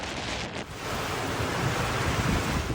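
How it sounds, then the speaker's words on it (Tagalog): Rough surf crashes and roars continuously off Batanes, Philippines, in a storm, with heavy wind buffeting the microphone and no talking. "Naggangalit ang dagat sa Batanes ngayong umaga."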